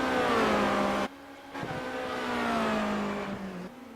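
Formula Renault 2.0 open-wheel race cars in the iRacing simulator at Silverstone, a single engine whining at high revs with abrupt gear-change drops and climbing pitch, fairly quiet and uninterrupted by talk.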